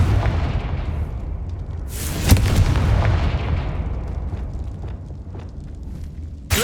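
Explosive spell blast in the video game Hogwarts Legacy: a sharp burst near the start of a dense, roaring rumble that swells and slowly fades over several seconds, with a second abrupt hit at the very end.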